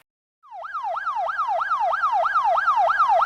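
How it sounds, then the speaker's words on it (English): A police siren sound effect from an old app, a synthesized rising-and-falling wail that starts suddenly and repeats in a fast, even cycle, loud and clear with no other sounds. "Another sound effect here is a police siren."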